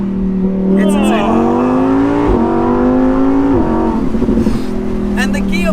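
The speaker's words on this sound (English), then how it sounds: "how much longer are we going to have stock cars where the stock exhaust sounds this good?" A Lamborghini Huracan EVO RWD Spyder on its stock exhaust roars close and loud, its revs climbing and dropping through several gear changes, with crackles and pops as the throttle lifts near the end.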